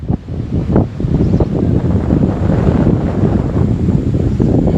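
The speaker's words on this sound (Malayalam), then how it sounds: "ആ കാറ്റടിച്ചില്ലേ" Wind sweeps across a hilltop and buffets the microphone in a steady, rumbling roar that swells slightly after the first second and continues unbroken without speech.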